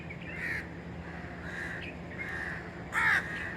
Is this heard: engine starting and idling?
no